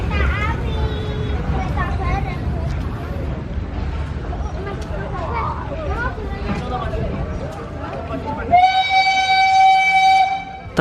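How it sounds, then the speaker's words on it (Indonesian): The Jaladara steam locomotive at Solo Kota station, with rumbling and clanking rail noise and people talking over it for most of the stretch, then a loud sustained horn or whistle blast near the end. "Ternyata lokomotif uapnya sudah kembali dan akan disambungkan dengan rangkaiannya"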